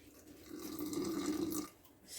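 Water poured into a sourdough starter on its third day, heard as a short, soft liquid pour lasting about a second and a half before trailing off, close and alone with no talk.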